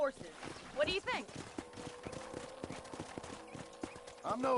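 Horses' hooves clip-clop in a quick trotting rhythm in a video game, close by, with voices speaking at the start and end.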